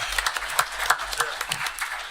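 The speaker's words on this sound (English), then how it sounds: "But let's give her a round of applause again, guys." Brief, moderate applause in a city council chamber, a scattering of claps from attendees over a couple of seconds, fairly near and without voices.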